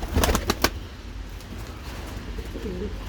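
Pigeons in a bird shop, with a few quick flapping wing bursts up close followed by soft low cooing, against a steady room hum.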